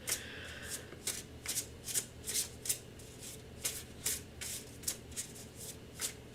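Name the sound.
shuffling tarot cards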